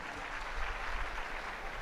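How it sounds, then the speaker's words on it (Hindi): Audience applause at a spiritual discourse gathering, a steady wash of many hands clapping at moderate distance, continuous and even throughout with no voices standing out. "ताली बजाकर धन्यवाद दें।"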